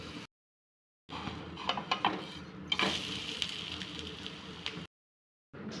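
Besan pancakes cook on a hot oiled tava, with metal utensils clinking and scraping against the pan over a faint sizzle, broken by short silences.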